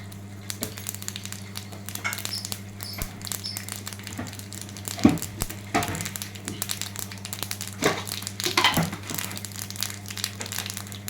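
Mustard seeds crackle in hot oil with a pinch of asafoetida, tempering for neem-flower rasam; scattered sharp pops and spits sound over a soft sizzle and a steady low hum, with no one talking.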